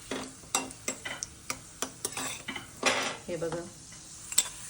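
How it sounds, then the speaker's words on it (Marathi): Raisins frying in ghee sizzle softly under a run of sharp metallic clinks and scrapes from a spoon against the pan, with a brief spoken phrase. "किशमिशला काही जास्त वेळ लागत नाही, ते लगेच फ्राय होऊन जातात"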